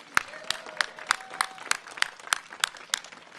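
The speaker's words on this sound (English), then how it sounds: "Let's give a round of applause to George Plow" Applause at a press event at the LA Coliseum, a steady rhythmic clapping of a small group, with sharp, evenly spaced claps, close and clear with faint crowd murmur beneath.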